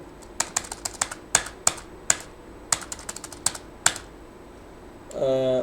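Keystrokes on a computer keyboard as a GST number is typed into Tally Prime accounting software, about a dozen sharp clicks in irregular bursts, close and clear, ending with a brief broadband noise.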